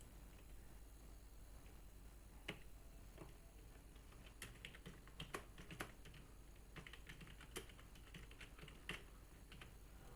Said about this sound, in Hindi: उसके बाद यहाँ पे हम लोग टाइप कर लेते हैं।